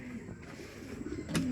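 Racing pigeons coo softly while being loaded for a training flight, a low murmur of bird calls with a slightly louder burst near the end.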